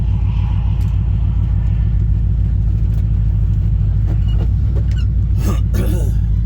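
A 1971 Chevrolet C20 pickup truck engine, with Hedman headers, idles loudly up close with a deep, steady, throbbing rumble, and people talk over it toward the end.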